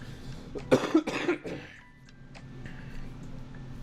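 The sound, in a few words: cough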